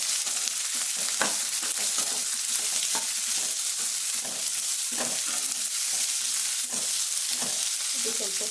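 Onions fry in a pan after chana dal and urad dal, a steady bright sizzle with intermittent stirring scrapes and clinks throughout, no voices.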